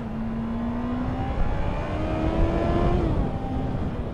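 Honda CB650R motorcycle engine pulls steadily while riding, its tone rising gradually through the revs with a rising whine, all under continuous wind rush from the moving bike.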